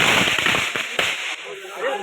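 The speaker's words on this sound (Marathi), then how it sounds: "अचानक भयानक बॉम्ब स्फोट" A loud firecracker goes off after rain, with sharp cracking bursts in quick succession followed by a crackling tail that fades, close and loud.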